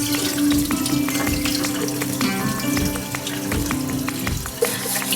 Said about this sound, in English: Let's rinse the rice in water first